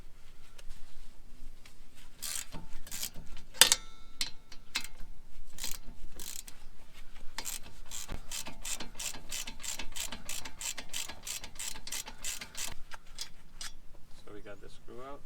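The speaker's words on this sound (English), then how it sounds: "So what we're doing, we're using a grip plier" Grip pliers turn a nut on the brake of a Mercedes CLA 250, giving a long run of rapid ratcheting metal clicks that keep an even rhythm, close and clear.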